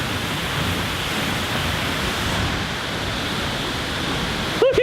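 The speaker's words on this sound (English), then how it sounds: "We are now behind the waterfall." A constant heavy roar of a waterfall in Iceland, heard from behind the falling water, fills the space, loud and close, steady and unbroken from start to finish.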